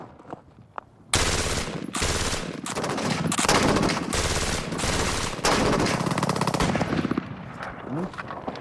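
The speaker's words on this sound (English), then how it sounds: "let's unleash the IAR in full auto." An IAR automatic rifle fires in full auto: several loud, sustained bursts of rapid gunfire separated by brief pauses, each burst lasting around a second or longer.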